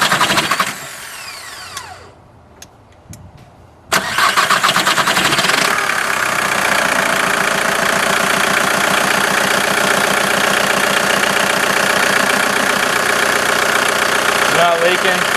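A VW TDI diesel engine with a fresh pump seal cranks with a whirring starter, goes quiet briefly, then fires and settles into a loud, steady clattering idle that carries on unbroken.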